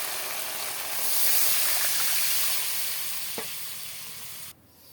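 Water poured into fried masala for a pabda fish oil jhal sizzles and hisses loudly in the pan, swelling then easing, with a brief stir clink and the noise dropping sharply near the end.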